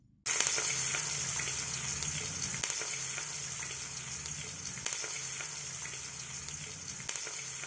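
Thinly sliced onions, four large ones, frying with whole spices in oil for a vegetable dum biryani, a steady loud sizzle with occasional stirring scrapes, close and continuous with no talk.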